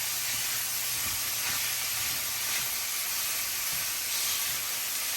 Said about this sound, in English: Take your chopped meat. Add it to the pan. I'm going to slowly break it down.